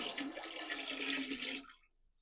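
Hot water from a jug pours in a steady splashing stream into a large water boiler full of water while wool is being mordanted with alum, the pour stopping abruptly near the end with no voices.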